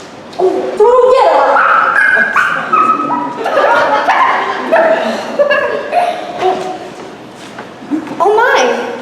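A small dog barks, yips and whimpers in a quick, uneven series close to the microphone, with a person speaking alongside the dog throughout.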